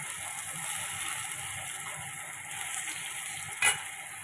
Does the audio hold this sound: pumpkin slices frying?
yes